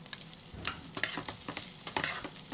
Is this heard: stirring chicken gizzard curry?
yes